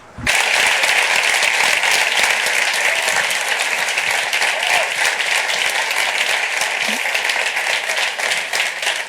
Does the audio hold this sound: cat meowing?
no